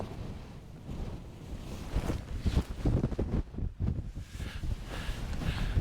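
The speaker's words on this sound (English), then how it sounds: "As you can hear the wind" Strong wind buffets an outdoor campsite, a loud continuous gusty roar that rises and falls in uneven surges across the whole stretch.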